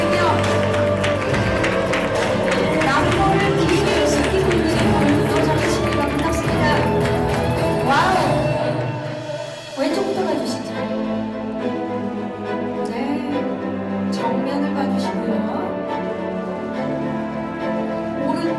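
Audience applause and crowd noise fill a press event photo session for a Netflix series launch, steady and loud, with a brief dip midway before continuing beneath an emcee's voice.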